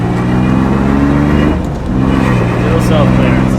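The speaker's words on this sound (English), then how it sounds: "Gotta get some heat in this motor." A BMW E36 engine revs hard and close, a loud droning roar with a brief dip before climbing again, mixed with voices.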